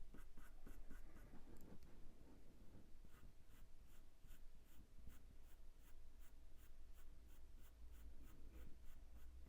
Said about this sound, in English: I'm taking the pencil up to go up and under the fur.